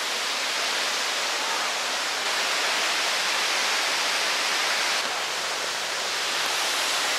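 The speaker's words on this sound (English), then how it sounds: "That sound behind me, that is a giant waterfall." A giant waterfall at Hickory Run State Park, Pennsylvania, roaring as a steady, loud, unbroken wash of noise that fills the whole stretch without pause, heard close with no voices.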